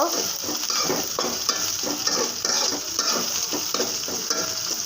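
Close, continuous frying of onion, garlic and green chili for a dried fish curry, a loud, steady sizzle broken by regular spatula strokes against the pan in a loose rhythm, with no voices.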